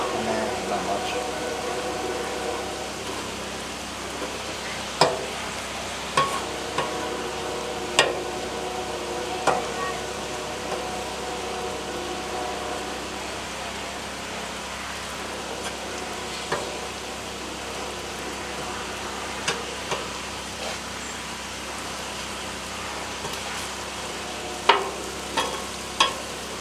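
Ground beef browns in a frying pan for crispy tacos, giving a soft, steady sizzle with occasional scraping clicks as it is stirred. A person talks over the cooking.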